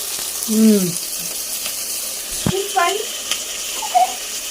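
Onion and green chilli pieces sizzle steadily in hot oil, close and continuous, while a voice and other speech come through on top.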